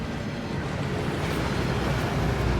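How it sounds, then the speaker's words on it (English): A waterfall in the video game Hogwarts Legacy roars as a steady, dense wash of rushing water, loud and unbroken for the whole stretch with no voices. "That waterfall washes away all enchantments."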